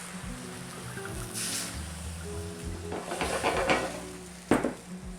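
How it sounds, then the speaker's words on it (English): Beef stock and Cabernet Sauvignon wine hit a hot pan after pan-roasting steaks, giving a soft hiss with clinks of pot and utensil, scraping and a sharp clatter near the end, close and moderate in level. "Now we're going to deglaze that pan by adding 1/2 cup of beef stock and then 1/2 cup of the Carnivor Cabernet Sauvignon wine."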